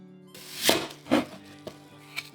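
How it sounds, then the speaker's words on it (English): Serrated knife slicing through apples on a board, two sawing cuts followed by lighter taps against the board, close and fairly quiet, no talking. "Here I find it easier to use a serrated knife"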